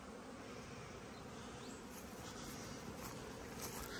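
Bees buzzing thickly around many hive colonies, a dense, continuous, even hum with no voices.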